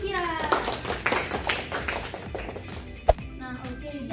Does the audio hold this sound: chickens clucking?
no